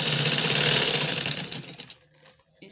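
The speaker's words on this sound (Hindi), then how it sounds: "फिर हम इस तरह इसको यहाँ रख कर सिलाई लगा लेंगे" A sewing machine stitches a poncha garment in a fast, steady close-up whir that slows and stops after about two seconds, followed by faint handling noises.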